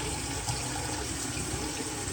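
Tap water running steadily into a sink while a hummingbird feeder is rinsed after washing with dish soap, a close, even broadband rush with no voices.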